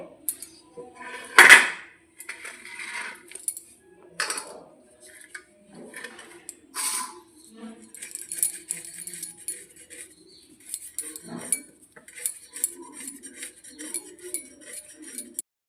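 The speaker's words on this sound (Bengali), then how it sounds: "এখন আমি আলুগুলো কাটবো" Potatoes being cut with a knife in a home kitchen, giving scattered clinks and taps of the blade against dishes or a board, irregular and close by, with no talking.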